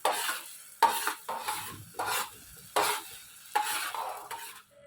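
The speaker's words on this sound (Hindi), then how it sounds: "अच्छी तरह से फ्राई करेंगे ताकि ऑयल ऊपर आ जाए।" A spoon stirs and scrapes tawa dal mash frying with green chillies and garam masala, about seven distinct rhythmic strokes over a soft sizzle, fairly quiet and close.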